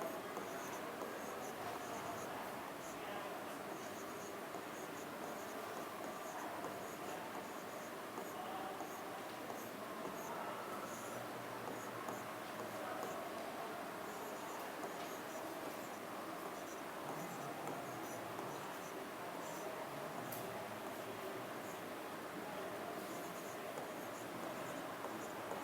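Steady pen-on-board or pen-on-paper writing scratches in a Class 9 maths lesson on rationalisation, soft and continuous over a faint room hiss with no clear speech.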